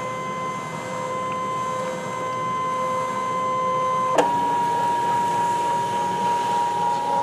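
Brother ScanNCut cutting machine scanning a sheet, a steady electronic whine with a soft mechanical hum, then a sharp click as the tone shifts and the motor runs on at a moderate level.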